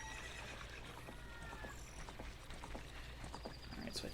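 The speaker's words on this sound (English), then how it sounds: "Now we're safely on a horse." Horse whinnying from Ocarina of Time, a brief neigh rising over a steady game soundtrack with hoof clip-clops scattered through it.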